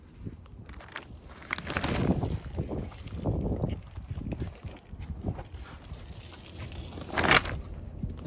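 Wind gusts buffet the microphone outside a hoop house in January, rumbling and surging in uneven waves with a sharper gust near the end.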